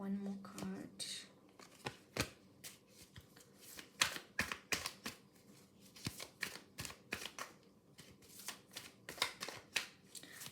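Tarot cards shuffled and drawn during a reading: a steady run of crisp riffling flicks and soft slaps, close and fairly quiet, with speech faint in the background.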